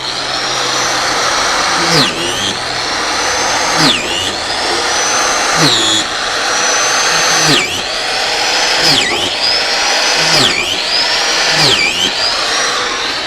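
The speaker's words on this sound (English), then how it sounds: "drill a series of holes in this oak logs" A power drill whines repeatedly, bogging down and revving back up as it bores a series of holes into oak logs, several holes in a steady rhythm.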